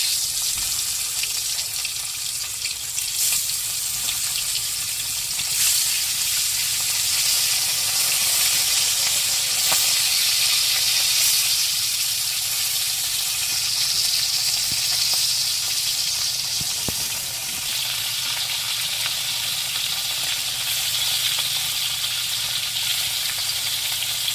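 Fish frying in hot oil with turmeric powder, a steady, continuous sizzle and hiss that runs unbroken throughout, with faint clinks now and then.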